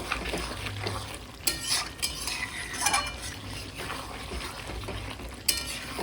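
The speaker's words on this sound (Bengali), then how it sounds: "এরকম করে মাঝে মধ্যে নেড়ে নেড়ে চেড়ে ভালো করে কষিয়ে নিতে হবে" Meat curry with potatoes stirred and frying in a pan, a steady close sizzle broken by intermittent scraping strokes of a utensil against the pan, with no talk.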